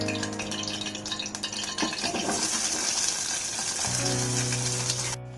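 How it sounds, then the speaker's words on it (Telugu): Onions fry in half a spoon of oil, a steady continuous sizzle with occasional stirring clinks, close and fairly quiet, alone without talk. "ఇందులో సగం స్పూన్ ఆయిల్ వేసుకొని ఆనియన్స్ వేయించుకోవాలి."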